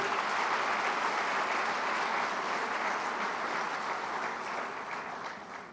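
Sustained audience applause at a political closing event in Afyon, a dense, even wash of clapping that fades slightly toward the end, with no one speaking.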